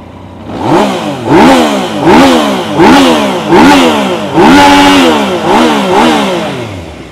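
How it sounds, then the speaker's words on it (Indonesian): A 2018 Yamaha Tracer 900 motorcycle with standard exhaust revs repeatedly, about eight sharp throttle blips rising and falling in quick succession, loud and close. "Jom kita dengar bunyi motor ni."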